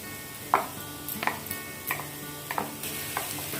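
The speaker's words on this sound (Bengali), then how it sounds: "এটাকে খানিকটা মিশিয়ে নেব।" Mashed boiled potato is mixed into a fish mixture for fish fingers, with soft, wet squishing strokes landing in a slow, regular rhythm of about six pushes, each with a faint clack, close and quiet over low background hiss.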